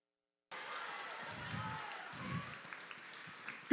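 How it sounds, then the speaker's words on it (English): A school audience applauds the 2019–2020 varsity cheer squad at a fine arts festival, a soft, steady wash of clapping from the crowd that rises after a moment of silence and carries on for a few seconds. "Let's give it one more huge round of applause for our 2019 to 2020 Varsity Cheer Squad"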